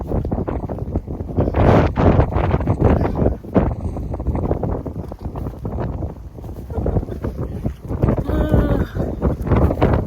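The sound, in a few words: strong wind gusts on Appalachian Trail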